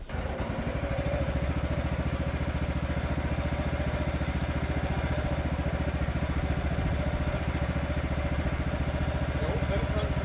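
A sawmill engine warming up and idling, a steady close chugging drone with an even rapid pulse and mechanical clatter throughout, loud and unbroken.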